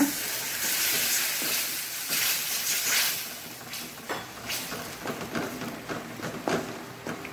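Water poured into a pan of sizzling onion masala for okra fry sets off a loud hiss of steam and spattering, then settles into crackling sizzle with sharp spoon scrapes and clinks against the pan.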